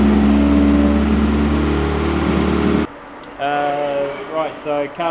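An AE86 drift car's SR20DET engine runs loudly and steadily, then cuts off abruptly, followed by quieter idling hum with tonal whines.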